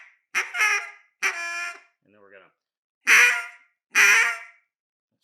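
A man imitates a Cajun squeal turkey hen call with his mouth, sharp rising squeals cut off at the end, repeated in short bursts between brief spoken words, close and loud.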